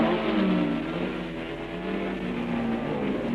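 Formula 1 racing cars of 1962 accelerate hard past the pits at Rouen-Les-Essarts, a loud continuous engine roar with shifting, rising pitch and no voices.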